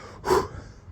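A single deep breath drawn in sharply through the mouth, a short loud gasping inhale close to the microphone, followed by quiet.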